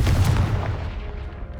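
A Confringo blasting spell goes off in Hogwarts Legacy as a single loud, close, booming burst that rolls and fades away over a second or so.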